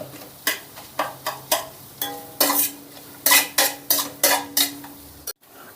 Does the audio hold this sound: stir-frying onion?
yes